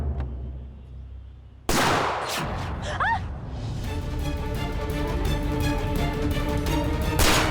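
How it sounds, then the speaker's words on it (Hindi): Gunfire erupts in a TV drama shootout, a sudden loud blast followed by dense, continuous rattling shots and sustained noise that builds toward the end. "ये लोग हम पे गोलियां क्यों चला रहे हैं"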